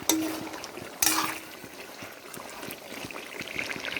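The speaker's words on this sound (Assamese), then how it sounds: "তেলখিনি বিৰিঙি উঠি গ'ল ইমান ধুনীয়াকৈ উঠলি আছে" Oil and potatoes bubble in a pan while cooking, a close, continuous sizzle and simmer dotted with small crackling pops.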